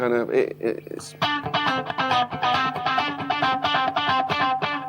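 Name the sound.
guitar with rhythmic delay tick effect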